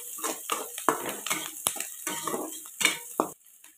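Chana dal and peanuts dropped into a pan and stirred with a metal spoon for a North Karnataka breakfast, close scraping and clinking strokes in an uneven rhythm, then a sudden stop.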